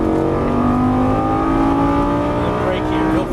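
Lamborghini Gallardo LP550 accelerating on a track, engine note rising steadily in a loud continuous roar heard from inside the car, with an instructor's voice talking over it.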